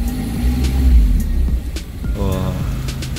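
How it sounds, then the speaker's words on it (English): A 2019 Mazda MX-5 hard-top starts up close by, its engine catching and rumbling into a short rev, with brief exclaimed speech over the sound. "I'm going to start the car right now"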